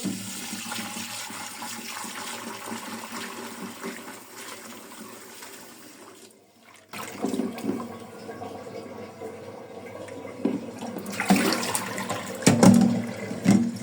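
Tap water gushes steadily while small topse fish, already rubbed with salt, are rinsed, the flow briefly dropping near the middle before returning stronger with splashes and clatter toward the end.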